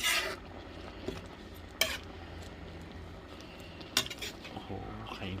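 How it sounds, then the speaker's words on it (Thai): Thai sweet leaf soup with red ant eggs being ladled into a bowl, with a few sharp metallic clinks of ladle against pot over a steady low kitchen background. "เดี๋ยวตักใส่ ถ้วยได้เลยนะ"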